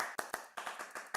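A few people clap at an online award presentation, a short sparse run of distinct, slightly uneven hand claps, faint and close, lasting about a second.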